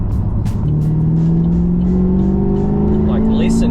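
A Holden VF Maloo ute's engine and exhaust rev up loudly and steadily, a deep, rising drone with a climbing pitch, heard close and continuous, with a voice talking over it.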